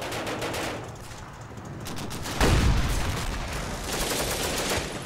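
Combat Mission Final Blitzkrieg battle ambience of sustained distant machine-gun chatter and scattered shots, swelling with a heavier burst or blast midway, continuous with no talking.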